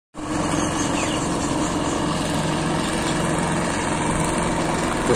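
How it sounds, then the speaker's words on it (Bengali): Small boat fitted with an engine running fast, a loud steady motor drone that starts abruptly and holds near and constant throughout, with no talk. "ছোট্ট একটা নৌকা মধ্যে ইঞ্জিন বসাইছে, খুব দ্রুত করে চলতেছে"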